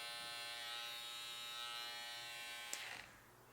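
A GTX XO hair trimmer runs with a noisy, continuous electric buzz, close and steady, then a brief click and rustle near the end.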